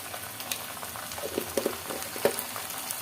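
Ginger and garlic frying in a pan of oil give off a steady, faint sizzle with scattered small pops and crackles throughout.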